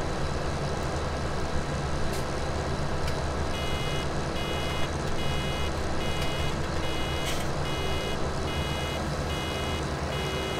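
A farm vehicle in Farming Simulator 17 sounds a steady series of high reversing warning beeps during hay baling, repeating evenly over a loud, constant engine rumble.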